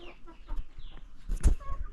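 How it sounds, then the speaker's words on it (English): Chickens inside a box in a village give short, scattered clucks and rustles, with one louder burst of clucking near the end, heard close by. "Inside here is where the chicken, I was told there's some chicken in here"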